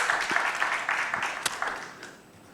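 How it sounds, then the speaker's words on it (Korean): A church congregation claps in praise during a Korean worship service, a moderately quiet, dense patter of hands that fades slightly toward the end. "우리 하나님께 영광의 박수를 돌립니다"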